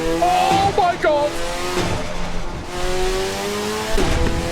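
A loud race car engine in the Assetto Corsa EVO racing game revs and climbs through gears, a harsh, close, continuous roar with rising and falling pitch sweeps.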